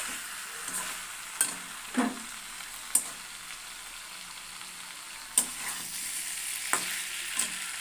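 A spice paste of onion, ground cumin, ginger and green chilli fries in oil in a pan with a steady soft sizzle, broken by occasional scrapes and taps of a spoon while stirring, for a koi fish curry.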